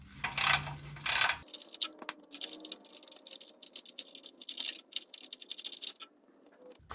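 A ratchet wrench works loose heat shield bolts on a Subaru WRX exhaust, with two loud bursts of rapid clicking followed by quieter scattered ratcheting clicks and metal handling up close.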